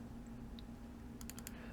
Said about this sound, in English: I love having a QWERTY keyboard because it just makes more sense to find the letters that way.